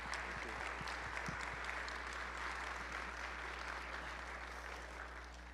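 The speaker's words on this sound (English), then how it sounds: "So if we could give them one more round of applause," Steady, fairly faint applause from family and friends in an audience at a nursing recognition ceremony, honoring faculty and staff; continuous crowd clapping that thins slightly toward the end.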